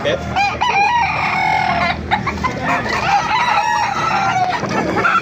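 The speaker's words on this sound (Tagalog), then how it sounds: "Napakarami manok ito." Many chickens, about 24, cluck and squawk at once in a dense, noisy flock at a market in Baliuag, with a rooster crowing among them, close by and loud.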